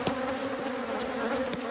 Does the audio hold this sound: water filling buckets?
no